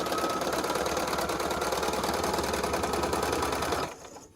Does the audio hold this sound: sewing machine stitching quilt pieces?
yes